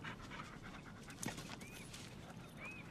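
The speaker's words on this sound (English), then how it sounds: "Good doggy." A dog panting in quick, soft rhythmic breaths close by, with a brief whimper-like sound in the middle and faint background noise.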